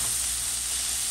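Rockfish pan-searing in a pan with lemon juice sprinkled over it, giving a steady, close, even sizzle and hiss that holds without a break and with no voices.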